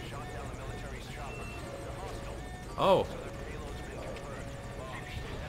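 A helicopter in the video game Metal Gear Solid V: Ground Zeroes drones with a steady rotor buzz throughout, while a brief exclamation from a player cuts in midway.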